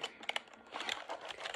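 Keys on a USB computer keyboard being typed on, a quick irregular run of close, crisp clicks and taps with brief pauses between bursts.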